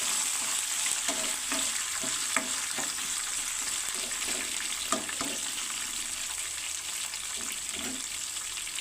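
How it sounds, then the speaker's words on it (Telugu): Curry leaves and tempering ingredients for temple-style pulihora frying in oil in a pan, a steady close sizzle with occasional crackles and stirring scrapes, no talking. "కరివేపాకుని కూడా వేయించుకుని అన్నింటినీ కలిపి దోరగా వేయించుకొని తీసుకోవాలండి"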